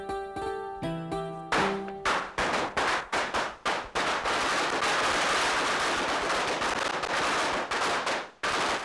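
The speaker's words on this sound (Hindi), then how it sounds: "ये दोपहर को पटाखे कौन फोड़ रहे" Firecrackers burst in the afternoon, first a string of sharp separate bangs, then a dense continuous crackling roll of rapid pops that carries on for several seconds before stopping abruptly, loud and fairly close.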